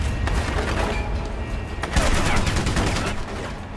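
AK rifle fire in a video game: a dense run of rapid shots over a constant loud battle background, sharper bursts near the middle, no speech.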